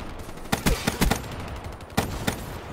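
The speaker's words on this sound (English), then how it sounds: "I'm freaking trying to shoot at them" Video game gunfire rings out in short broadband bursts, a cluster of quick shots near the start and two more spaced shots later, loud and close with no talking.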